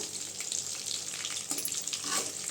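Kilanga fish fries in hot oil, giving off a dense, continuous sizzle with a steady bubbling hiss. The sound is close and even, with no voices, across a brief few seconds.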